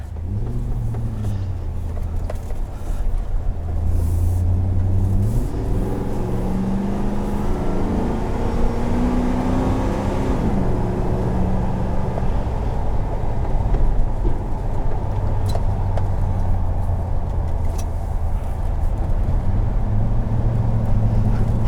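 A 2019 Chevrolet Silverado 4500 LCF, a low-cab-forward dump truck, drives along with a loud, continuous low engine drone and road rumble, heard close up from inside the cab with some shifting engine tones.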